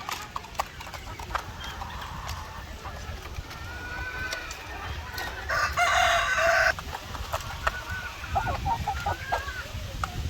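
White Leghorn chickens cluck and call repeatedly amid busy farmyard noise, with a louder, denser burst of activity midway through.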